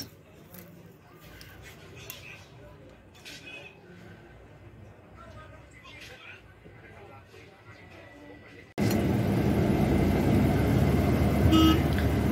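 An AC government bus at a Guwahati terminal, bound for Guwahati Airport, sits among traffic hum and a horn toot while people talk, then its engine starts with a sudden loud, steady roar filling the rest.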